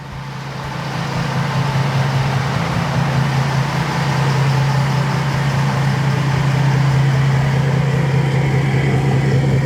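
A 2023-2025 Ford 6.7 Powerstroke diesel truck running a 650 wheel-horsepower max-effort tune, heard from inside as a loud, steady deep drone that builds in the first second and holds level without talk.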